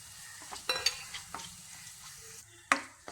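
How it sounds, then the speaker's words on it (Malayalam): Onion and chopped green chili sautéing in a pan for a Kerala-style egg dish: a low, quiet sizzle with scattered spoon scrapes and stirring clinks, one sharper knock near the end, no voices. "ഉള്ളി വഴണ്ടു വരുന്നുണ്ട്"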